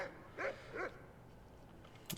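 Dogs in the video game Skyrim give two quick, faint barks close together, then fall quiet apart from low background ambience.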